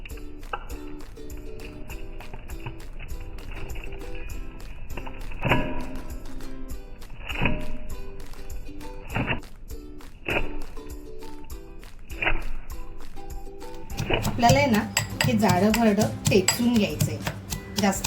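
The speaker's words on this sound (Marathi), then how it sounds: "आपण अद्रक लसूण आणि मिरची टेचून घेऊया" Ginger, garlic and green chillies are pounded with a series of dull, spaced thuds, then quicker, busier knocking toward the end, all over steady background music.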